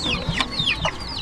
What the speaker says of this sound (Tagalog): naman dito yung mga sisiyo dito, ang dami